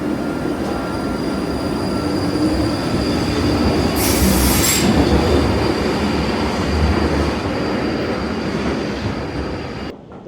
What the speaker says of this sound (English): So the train right here is the 5:14 to Stevenage.